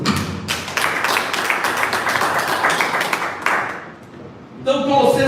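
A church congregation bursts into sustained applause, dense and steady for about four seconds before thinning, then a fresh burst of clapping and voices rises at the end.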